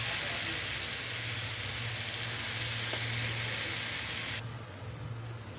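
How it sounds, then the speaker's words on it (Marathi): Small ground-dal vadas fry in hot oil for chutney, a steady close-up sizzle with a low bubbling hum underneath. The hiss drops a little near the end, and no one speaks. "त्यासाठी मी असे छोटे छोटे तळून घेते पहिली"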